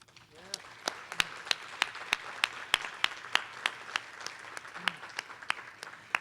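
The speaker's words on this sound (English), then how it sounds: "Can we give them another round of applause, please?" A small audience at a Goodwill awards breakfast applauds the Health Achievement Award recipients, a room of scattered individual claps at moderate distance with a sharp rhythmic clapper standing out. A voice speaks over the start.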